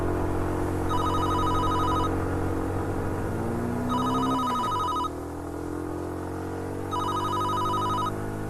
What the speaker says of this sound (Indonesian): Kayaknya ada suara telepon deh.